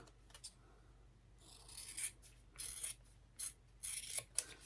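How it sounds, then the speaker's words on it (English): Several short, crisp snipping and rasping scissor cuts trimming a fabric edge in quick succession, close and fairly quiet, with brief pauses between strokes. "My edges are a little uneven, so I just trimmed off the top"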